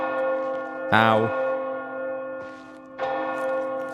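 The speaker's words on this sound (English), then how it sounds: "I'm going to end up with hearing damage from the flipping church bells" Church bells ring out in the video game Oblivion Remastered, a loud clang followed by sustained humming resonance and a second strike, with a brief pained voice reacting.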